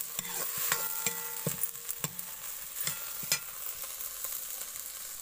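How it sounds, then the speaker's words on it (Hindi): Food roasting in a pan while being stirred, a steady close sizzle with repeated scraping strokes of a spoon against the pan, and no voices. "अभी हम लेते हैं अच्छे से भूज लेंगे इसको।"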